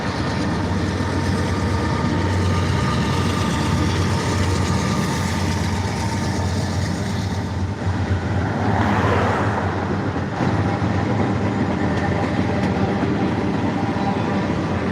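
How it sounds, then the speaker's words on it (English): A train rolls steadily past, filling the scene with continuous loud rumbling and rail clatter for its whole length, with no talking heard. "we got another train coming by"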